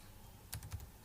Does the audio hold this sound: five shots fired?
no